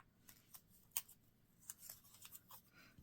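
Scissors cut paper into a half-heart shape for a paper gladiolus flower. The sound is a series of quiet, crisp snips spaced irregularly and heard close up and alone.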